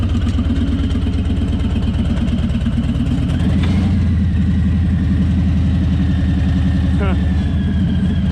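A Harley motorcycle engine runs steadily beside a short-bed pickup truck, a loud, close, pulsing low throb at idle with barely any throttle, lifting slightly in pitch partway through.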